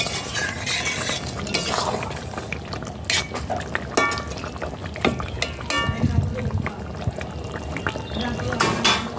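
A spoon stirs pointed gourd chicken curry in a pan after ghee is added, making repeated scraping and clinking strokes against the metal with faint sizzling, near and moderately loud.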